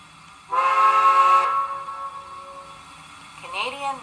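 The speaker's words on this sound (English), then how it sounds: "simply press button 2 to blow the whistle" A steam whistle from a model train sounds one sustained chime for about a second, then fades, followed by a shorter rising toot.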